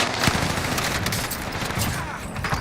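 Rapid video game gunfire, a dense stream of close, loud shots and bursts crackling continuously with booming impacts throughout.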